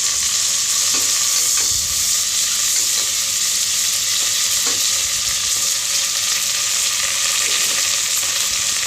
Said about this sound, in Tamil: இப்போ நல்லா வதக்குங்க.